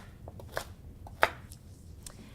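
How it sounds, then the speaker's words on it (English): A knife chops roughly through garlic and slices carrot on a board, a few sparse, quiet taps and cuts spaced irregularly against a soft room background. "just kind of rough chop your garlic before putting it into the shredder. And slicing up our carrot."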